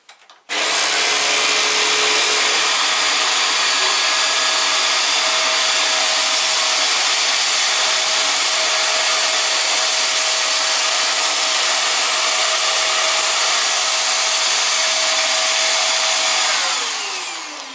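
Vax Mach Air Revive UCA2GEV1 upright vacuum cleaner running on laminate flooring with the brush bar off, a loud steady motor whine switching on abruptly and holding constant for a long stretch before easing off.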